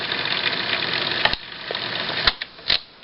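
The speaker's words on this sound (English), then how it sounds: "There's a sort of odd noise that some cassette recorders make. The motor makes that." Motor noise from a 1971 Philips 1570 radio cassette recorder, a close steady whirring hum that stops partway through, followed by a few sharp mechanical clicks and clunks.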